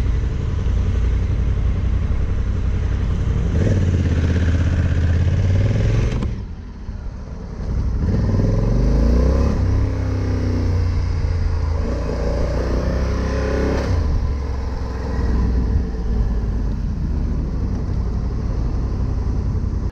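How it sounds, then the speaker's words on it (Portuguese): A Honda Africa Twin twin-cylinder motorcycle engine idling and running at low revs, a deep, loud, steady tractor-like rumble with a brief dip in level midway, heard close with no talk. "Parece um tratorzão rodando ali, principalmente quando ele está em baixo giro."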